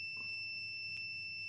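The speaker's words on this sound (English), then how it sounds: "You can probably all hear that beeping." A multimeter's continuity beeper sounds steadily while testing a cable connection on Technics equipment, a thin, constant high-pitched electronic tone held without break, fairly faint over a low hum, with no voices.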